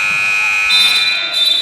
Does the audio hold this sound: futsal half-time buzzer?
yes